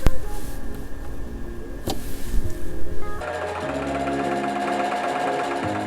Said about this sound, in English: Now that we have backstitched our straight stitch along that first seam